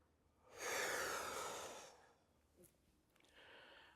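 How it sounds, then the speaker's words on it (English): Deep audible breaths in a breathing exercise: a long, loud inhale lasting over a second, then a quieter exhale and a softer final breath, close and with no talking. "We're gonna try a breathing technique, okay?"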